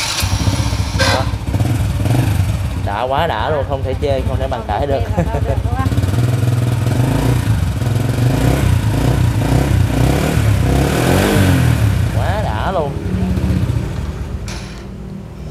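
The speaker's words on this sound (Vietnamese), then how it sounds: "coi nổ máy được không nổ cho anh chị nghe tiếng bô chơi nha" A 2005 Supreme motorcycle idles and revs through its exhaust, a steady, close engine rumble with a few throttle blips. People talk over it throughout.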